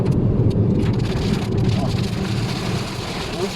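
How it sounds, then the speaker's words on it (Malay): Steady rain pours down with a dense hiss and patter, fairly loud and continuous, with a low rumble underneath. "Hujan."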